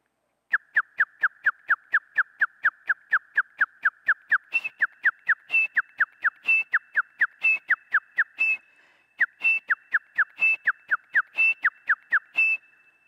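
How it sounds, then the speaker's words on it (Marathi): A person whistling a long, rapid series of short, sharp notes in an even rhythm, loud and close, with a couple of brief pauses between runs and no other sounds. "त्याच इंटेन्सिटीने मी ती शीळ मारतो."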